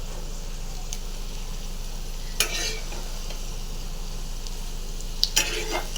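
Onions frying in hot oil in a pan while making lentil fritters, a steady low sizzle with two brief louder stirring scrapes, close by and without voices.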